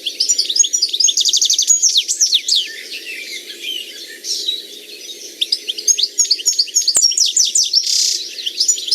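Goldfinches sing a bright, tinkling stream of fast twittering chirps and trills, close and continuous over nine seconds, with a quiet low background hum beneath.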